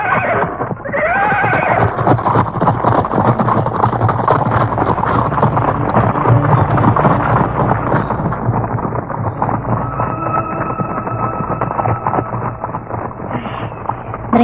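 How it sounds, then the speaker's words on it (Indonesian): A troop of mounted riders passes close by, horses whinnying and neighing loudly over a dense, continuous rumble of hooves and clatter, with a gusty, wind-like roar underneath throughout. "Serombongan orang-orang berkuda."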